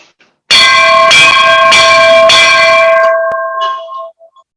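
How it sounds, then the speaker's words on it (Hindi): A metal temple bell rings loud and close, struck three times in quick succession so the bright tones overlap, then the ringing decays into a fading hum with a faint click near the end. "घंटा का नाद हमारे अंदर वाइब्रेशन उत्पन्न कर रहा है"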